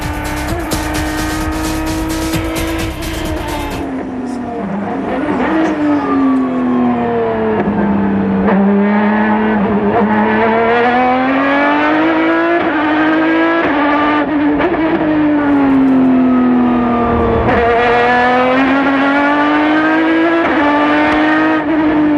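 American Le Mans Series race cars, including an Aston Martin chased by a Corvette, roar loudly on a 2006 circuit, engines rising and falling through repeated gear changes and revving sweeps, with sharp bursts as cars pass close by.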